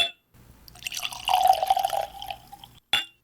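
Kilkerran 12 Year single malt whisky glugs steadily from the bottle into a glass for about two and a half seconds, close and clear, ending with a brief bright clink.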